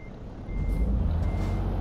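A truck in Euro Truck Simulator 2 sounds its reversing alarm, a steady, faint high beep held over a low engine rumble that grows louder halfway through.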